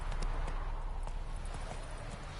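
Steady hoofbeats of Roach, Geralt's horse in The Witcher 3, walking at a relaxed clip-clop pace over a low ambient game bed, fairly close and continuous, with no talking.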